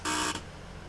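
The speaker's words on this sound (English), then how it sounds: "We get the buzzer as well." A door buzzer sounds aboard a ScotRail Class 158 diesel unit in Train Sim World, giving one loud, steady electronic buzz of about a third of a second that cuts off abruptly, followed by quiet cab hum.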